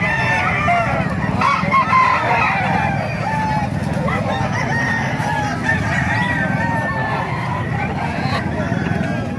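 Chickens cluck and a rooster crows amid a busy outdoor chicken market crowd, with people talking over the steady background noise.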